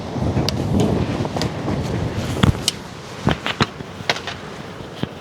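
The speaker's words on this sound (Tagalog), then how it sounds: "Ang hangin, grabe." Strong gusty wind roars into the microphone during a night stop on a drive from Pangasinan to Manila, a steady close rumbling buffet broken by sharp clicks and knocks.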